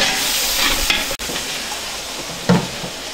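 Spiced masala for Dindigul-style chicken biryani sizzles in a pot as sour curd is poured in, a soft steady frying hiss with a sharp stir or clink midway and another thump later, close and alone.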